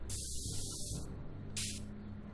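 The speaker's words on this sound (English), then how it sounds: "doing a bit of spray painting." Spray painting in the Back to the Future adventure game: two hissing aerosol bursts, the first about a second long and the second shorter after a pause, heard fairly close over a low background hum with no voices.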